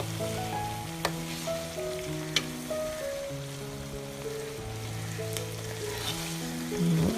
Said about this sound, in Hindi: तो यहाँ पे हमारा मसाला तकरीबन ड्राई हो चुका है और जितना भी हमारी ग्रेवी है उसमें घी छोड़ना शुरू कर दिया है।